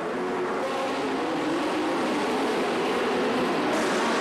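Midget race cars roaring around a dirt track, a loud continuous engine drone from several cars that holds steady throughout with no talk.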